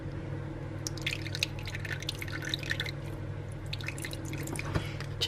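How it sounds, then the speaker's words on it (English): Water trickling and dripping into a bowl of gluten-free coconut flour double chocolate brownie batter, a steady close liquid patter with small splashes. A low kitchen hum sits underneath throughout. "we're also going to add in 2 tablespoons of water"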